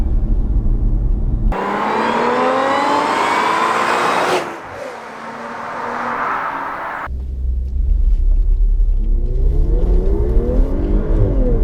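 A remapped Audi S5 accelerates hard, its engine rising in pitch through the gears with a brief drop at a shift, then pulling again. The sound is loud and close throughout, and nobody talks.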